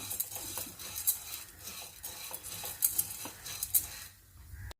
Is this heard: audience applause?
no